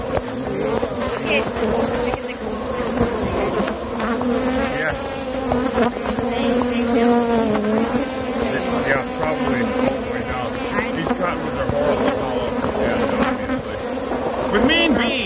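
Bees swarm around a hive inside a tree, a loud continuous close buzzing drone with wingbeats flitting past, while a person's voice murmurs faintly underneath.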